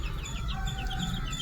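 Chickens and recently hatched chicks cluck and peep close by, a busy run of short, high chirps over low, soft clucking.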